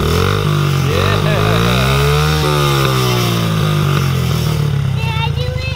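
A small motorcycle engine, out of gear and recently stalled, revs loudly and continuously, its pitch climbing and falling in sustained buzzing sweeps, with voices and a child's chatter around it.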